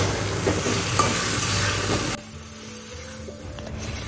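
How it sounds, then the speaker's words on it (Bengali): Pieces of Asian swamp eel frying and being stirred with spices in a pan, a loud steady sizzle up close that drops abruptly halfway through to a quieter background with faint clinks. "এখন মাছটা সহ কিছুক্ষণ কষাবো।"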